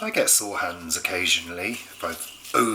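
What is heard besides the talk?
No everyday noise stands out behind the speech.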